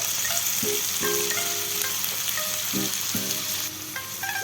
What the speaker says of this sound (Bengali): এবার চিকেনগুলোকে একটু ভালো করে 3-4 মিনিট ধরে ফ্রাই করে নেব